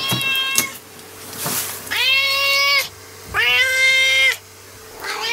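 Cats meow loudly at close range, several long drawn-out calls with a few shorter cries in between, heard alone in a quiet room.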